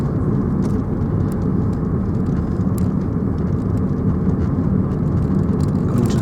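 A 2000 Ford Puma 1.7 Zetec-S 16v, 123 bhp, pulls hard in fourth gear, giving a loud, constant engine drone with road and wind roar heard from inside the cabin.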